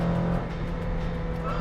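Steady engine drone from a 1994 Porsche 968 Turbo S with a manual gearbox, heard from inside the car while driving, a continuous low rumble without voices over it.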